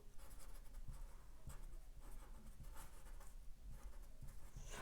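A pen or marker scratches across a paper pattern piece for a sewing project, making faint, close, continuous scribbling strokes in a quiet room.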